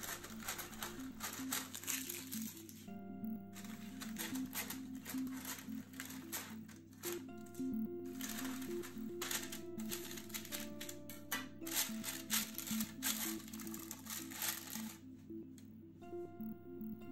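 Baking paper crinkles and rustles as it is pressed and handled inside a Dutch oven, irregular crackling bursts continuing close up without speech.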